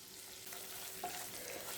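A soft, steady sizzle of chopped garlic and ginger sautéing in hot oil, with a faint stirring scrape partway through.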